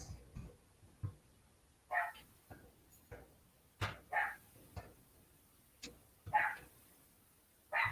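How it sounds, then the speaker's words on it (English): A neighbor's small puppy barks in short, sharp yaps, about eight or nine separate barks spread irregularly across the stretch, heard from a little distance over a quiet background. "It's my neighbor's dog. Oh. Yeah, it's a very loud puppy."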